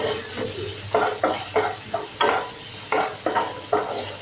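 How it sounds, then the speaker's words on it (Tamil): Vegetables for egg fried rice stir-frying in a pan over high flame, with a steady sizzle and rapid rhythmic scraping and tossing strokes of a spatula, close and loud. "இதை ஹை ஃப்ளேமில் வச்சு நல்லா ஃப்ரை பண்ணுங்கள்."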